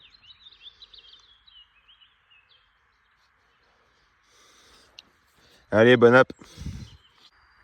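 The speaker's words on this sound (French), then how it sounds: "Elle est pas belle la vie, au calme, le chant des oiseaux." Faint bird calls and chirps drift over a quiet field during a relaxed outdoor lunch, scattered through the first few seconds before a person speaks briefly nearby.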